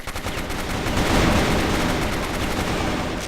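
Gunfire from a weapon in the shooter game CrossFire makes a dense, continuous automatic burst that stays loud and close throughout, with no talking over it.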